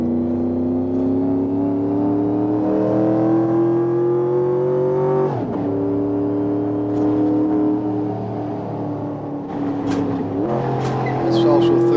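A car engine revs and pulls under steady load, its pitch climbing, then dropping sharply at a gear change into third before rising again, with someone talking over the engine throughout.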